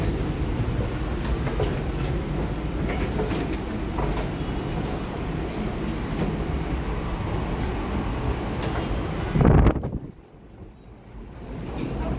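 Steady, loud rumble and rush of the Brawijaya express train from Surabaya to Jakarta on the move, with broadband wind-like roar throughout, ending in a sharp burst before dropping to a quieter hum.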